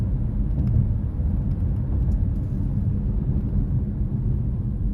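A car drives along a road in Katy, Texas on a nice day, giving a steady low engine and tyre rumble with road noise, close and continuous, with no voices.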